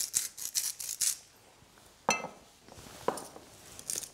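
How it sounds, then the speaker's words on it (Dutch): A salt mill grinds salt over raw pork strips in a kitchen, producing a quick series of close, crisp grinding bursts followed by a few separate louder cranks, with no talk. "Zout uit de molen."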